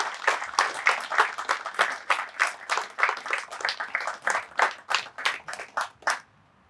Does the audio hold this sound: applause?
yes